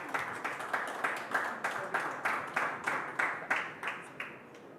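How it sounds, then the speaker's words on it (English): An audience at a food awards ceremony applauds the winner of Best Indian Restaurant of the Year, with a sustained round of clapping that pulses roughly twice a second and tapers off toward the end. "A huge round of applause for the Best Indian Restaurant of the Year"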